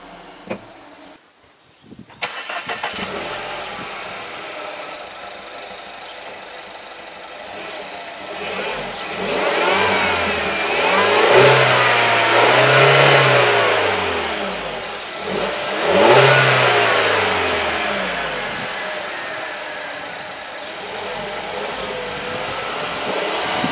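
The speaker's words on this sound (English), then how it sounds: "Now, let's start the car up." A 2015 Mini Countryman Cooper S ALL4 engine cranks and catches after a brief pause, then idles before two loud rising revs swell and fall back, heard alone with no talk.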